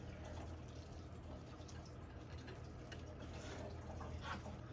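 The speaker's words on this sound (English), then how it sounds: "Adding some water." Water poured into a potted dahlia tuber outdoors gives a steady splashing, trickling fill that runs continuously at low level throughout, with a faint background hiss and no talking.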